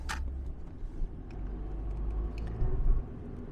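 Cars moving in traffic at a roundabout in Germany, a steady low rumble of engines and tyres heard from inside a vehicle, with a brief sharper swell near the end and no talk.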